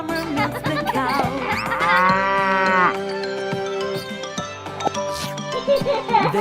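A cow gives a single drawn-out moo that rises and falls, heard over a bright, bouncy children's farm song with instruments playing throughout.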